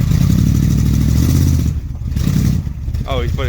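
Dodge street van fitted with a custom side pipe exhaust rumbles loudly up close, a heavy uneven engine roar that drops off partway, with people talking over it.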